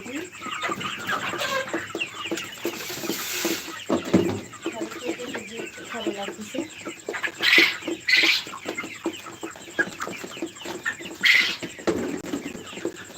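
A flock of farm chickens feeds at night, with steady clucking and scattered sharper calls close by while a person talks over them.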